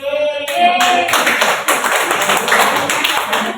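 Secondary school students in a catechism class clap their hands, a close burst of quick, uneven claps that starts after a brief sung note and carries on steadily to the end.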